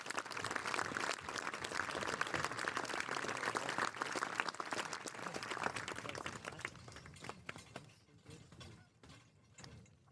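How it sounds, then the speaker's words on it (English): At a baseball game between the Saints and the Newman Knights, a crowd applauds its veterans with dense, steady clapping that thins and fades toward the end. "Ladies and gentlemen, another round of applause for all of our veterans and all who have served"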